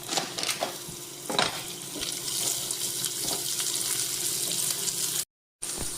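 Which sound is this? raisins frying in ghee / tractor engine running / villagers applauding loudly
raisins frying in ghee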